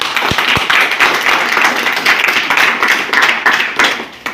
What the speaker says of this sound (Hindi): इस बात पे ताली बजाओ